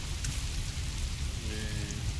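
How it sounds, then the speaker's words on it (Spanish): Steady rain falls in the survival video game The Forest as a dense, continuous hiss of drops, loud and constant with no pauses, with no voices over it. "Es que está lloviendo, pues,"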